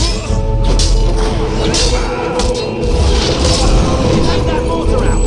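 Mortar fire during a castle assault in Fable 3, heavy booms and thuds over a dense rumbling battle din, with shouting voices mixed in and a sustained loud roar throughout.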